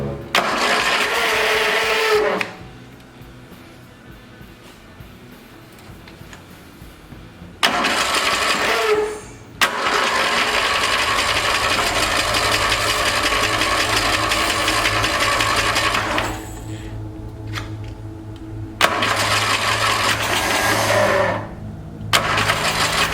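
A lawn mower engine fitted to a homemade tow vehicle cranks, catches and runs loudly in several bursts, stalling and restarting with brief quiet gaps before settling into a steady idle.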